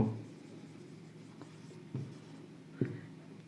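Pen stroking across paper while drawing a line for a triangle geometry proof, a soft faint scratching texture with a few light taps, close and quiet.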